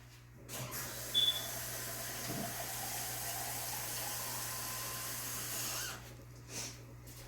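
Water streams steadily for several seconds into seed-germination containers of sand and peat pellets, a continuous splashing pour that starts and stops cleanly, no talking.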